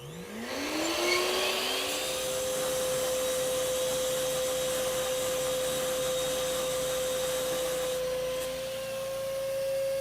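An iQ426 HEPA dust extractor spinning up on auto mode, its motor rising in pitch then settling into a loud, steady whirring drone with a constant tonal whine.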